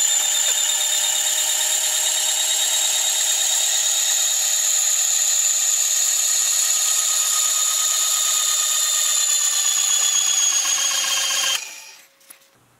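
A loud, steady high-pitched whine of a drill boring holes into a metal fixture plate, running continuously before cutting off abruptly near the end.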